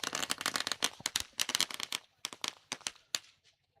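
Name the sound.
firecrackers set off to welcome a guest at a match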